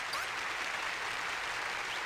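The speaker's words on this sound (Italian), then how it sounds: "Applauso di gruppo." Group applause from the video game Omori, a dense, even wash of many hands clapping at steady loudness throughout, with no voices over it.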